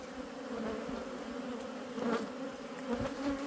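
Honeybees drone steadily at an open hive colony in the Vienne during swarming season, a dense, even buzz that holds close and loud throughout, swelling slightly near the end.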